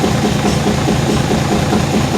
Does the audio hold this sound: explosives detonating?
no